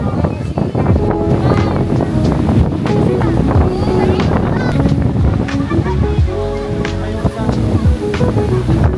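Wind buffets the microphone at a beach in Ilocos Norte, a loud continuous rumble, while people talk and call out throughout.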